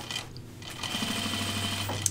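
A sewing machine runs along the side seam of a pair of jeans, starting up partway through and then whirring at a steady, fast pace close by.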